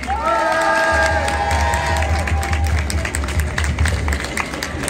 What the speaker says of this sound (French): Vous pouvez vous applaudir d'être venus aujourd'hui pour manifester.